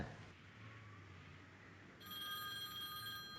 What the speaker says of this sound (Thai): อ้าวโทรศัพท์มาแล้ว